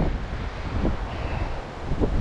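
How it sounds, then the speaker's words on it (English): Wind buffets the microphone on a mountain bike trail at Rocky Face Ridge Park in Dalton, Georgia, a loud, low rumbling gust noise that swells and fades in uneven bursts. "sorry about the wind up here"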